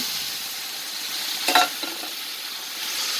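Tomatoes, coriander and mint fry in a pan for mutton biryani, giving a steady close hiss with a brief clatter of stirring in the middle.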